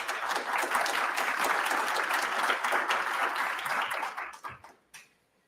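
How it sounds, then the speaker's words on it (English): Applause from a conference audience fills the room with dense, steady clapping for about four seconds, then thins out and dies away in scattered claps near the end. "Okay, I've got the applause."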